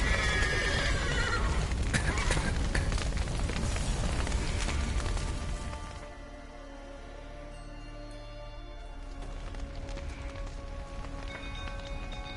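Horses whinny and neigh in The Witcher 3 amid a chaotic scene, with hoof clatter and rushing noise up front that thins out into a quieter ambient bed with occasional distant sounds.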